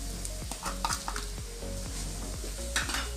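Egg with salt and pepper being stirred in a bowl, with a utensil tapping and scraping against the sides in a quick, uneven rhythm over a faint steady background hum.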